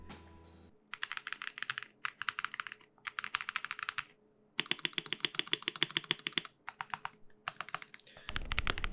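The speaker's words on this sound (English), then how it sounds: "In terms of sound and feel, this keyboard actually sounds decent." An Epomaker Everglide SK87 mechanical keyboard with half-silent Epomaker switches types in quick bursts of crisp clicks, close and clear, pausing briefly between runs of keystrokes.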